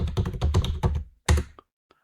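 Computer keyboard typing: a quick run of key taps in a steady burst, a pause, then a few final clicks, close and clear with no talking.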